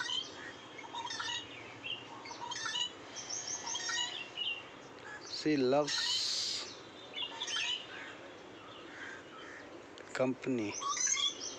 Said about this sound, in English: Just see this bird.